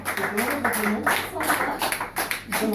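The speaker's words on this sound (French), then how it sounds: "Et on l'applaudit." Audience applause at a hypnosis show in a pizza restaurant, steady dense clapping throughout with voices and laughter mixed in.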